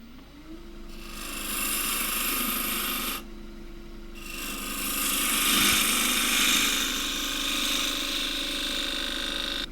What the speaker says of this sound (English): to make an entry cut with a bowl gouge here, through an arc into the wood again